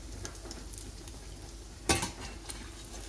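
French toast fries on a hot pan with a steady low sizzle, broken by one sharp metallic scrape and clatter as a metal flipper slides underneath to check it, then soft clinks.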